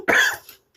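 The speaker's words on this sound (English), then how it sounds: "I just have a lingering cough now." A single short, close cough from a woman recovering from an illness, sharp and loud at the start then trailing off into quiet, with no talking.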